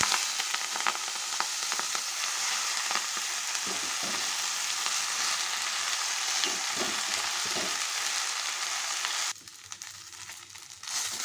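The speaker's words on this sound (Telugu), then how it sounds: "అదే ప్యాన్లో ఆయిల్ వేసుకుని మునగాకు కూడా ఫ్రై చేస్తాం" Drumstick leaves fry in oil in a pan, a loud continuous sizzle broken by repeated scraping stirs, easing off briefly near the end before rising again.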